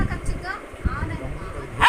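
Two pet dogs squabbling at home, with yips and short barks scattered under a person talking, ending in a louder, sharper outburst near the close.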